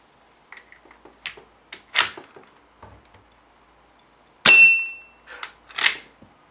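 A paper replica of a Winchester Model 94 lever-action rifle is test fired: scattered light clicks and snaps of the mechanism, then one sharp, loud crack of a shot, followed by a few more clacks close by.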